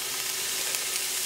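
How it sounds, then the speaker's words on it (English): Steady, close sizzle of food frying in a pan on medium heat, a continuous crackling hiss with no pauses, soft and even throughout. "You hear that sizzle?"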